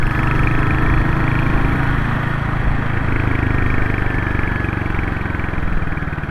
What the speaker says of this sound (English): I don't want to drown out the noise of the engine and the exhaust